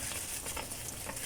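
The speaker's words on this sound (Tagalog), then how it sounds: "Ngayon, ilagay na po natin yung unang gata." First-press coconut milk is poured into a hot cooking pot, giving a brief, dense, steady sizzle and bubbling close up.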